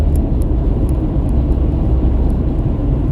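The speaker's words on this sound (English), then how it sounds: "I'm in a lot of traffic" Steady low road rumble and tyre drone heard from inside a car moving through heavy traffic on US 19 South, a continuous loud whir with no talk.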